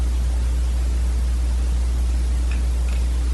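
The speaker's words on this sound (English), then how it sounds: "The intercom blanked out." Steady loud static hiss with a constant low hum as a cable car intercom drops out, a couple of faint blips near the end, and no voices.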